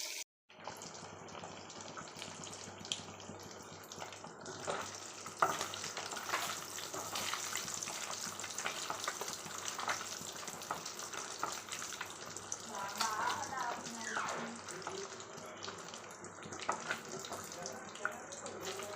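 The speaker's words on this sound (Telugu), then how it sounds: "ఫిష్ పీసెస్ బాగా వేగాయి." Fish pieces fry in hot oil, giving a steady, dense sizzle that runs throughout with faint clinks and stirring noises now and then.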